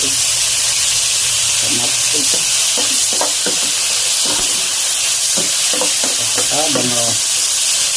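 Squid and tomatoes sizzle steadily in a frying pan, with a constant hiss and scattered stirring clicks and scrapes close by.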